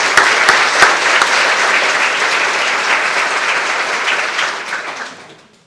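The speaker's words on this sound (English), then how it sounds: "So a round of applause for them." Loud, dense applause from a luncheon crowd at a women in leadership event, steady clapping that holds for several seconds and then tapers off near the end.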